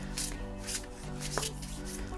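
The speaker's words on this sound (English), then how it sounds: "The one that I can't even shuffle properly." A large, oversized Everyday Enchantment tarot deck being shuffled by hand, giving a soft run of papery riffles and rubbing swishes with a few sharper card taps, close and fairly quiet.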